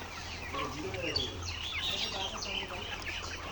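Layer hens about 78 days old cluck and chirp together in a farm shed, a dense, continuous chorus of overlapping calls at moderate distance.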